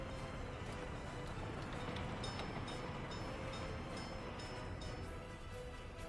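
A train pulls into a station in the colony-building game Workers and Resources, a steady, dense rumble with faint rhythmic clatter that holds throughout, no talk over it.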